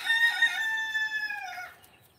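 A rooster crows once, loud and close, a long rising then falling call, with soft chicken clucking at the start.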